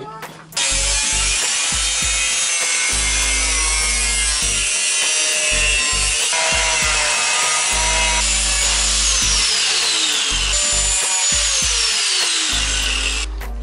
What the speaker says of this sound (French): Donc là, du coup, je vais couper au milieu des trous.